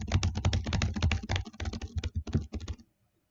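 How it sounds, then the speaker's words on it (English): Rapid typing on a laptop keyboard, picked up by the laptop's own microphone, gives a loud, close, thumping clatter of keystrokes that stops abruptly near the end, with no talking. "if you use the laptop mic, when you type, it sometimes sounds like this"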